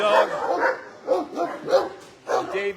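A young, excitable dog at an animal shelter gives a few sharp barks and yips in separate bursts, close by, while a person talks between them.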